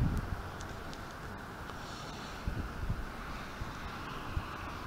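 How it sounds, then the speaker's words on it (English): Wind blowing outdoors on a cold day near mountains, a steady low rumble buffeting the microphone with occasional gusty thumps, continuous and fairly faint, with no one talking. "It's windy."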